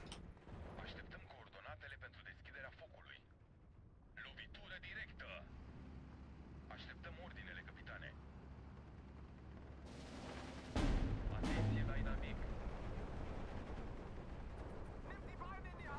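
Machine gun fire in the World War II strategy game Steel Division 2: continuous distant rattling bursts and booming gunfire, rising to a louder, dense roar near the end, with a voice talking over it.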